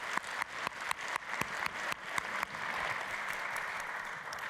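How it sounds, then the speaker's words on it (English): Scattered, distinct claps start an audience round of applause for the judges at the MIT 100K Launch Competition, quickly thickening into a dense, steady ovation heard at a moderate distance. "giving another round of applause to the judges"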